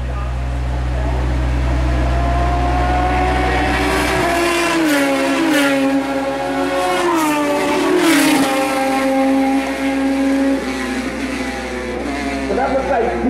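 Radical SR3 race cars scream past on a circuit during a 15-lap race, high-pitched engines revving and shifting as they pass close by, with a commentator talking over the steady roar.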